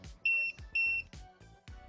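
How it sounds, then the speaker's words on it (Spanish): Voltage tester pen beeping at the live phase contact of a wall socket, a close, loud series of high electronic beeps in short repeated pulses. "vemos que en un contacto se activa la señal en rojo con pitidos, lo que indica la fase"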